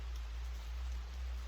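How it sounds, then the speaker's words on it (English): Steady rain falls on a drizzly day outside a shop, a continuous soft hiss with low rumble underneath, even and unbroken throughout with no talking. "Rainy day, we're hanging around at Rosie's."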